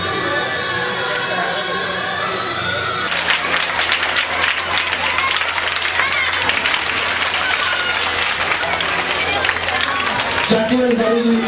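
Dense audience applause at a charity event for needy children, starting abruptly after a stretch of murmuring crowd noise and continuing steadily loud before fading into chatter.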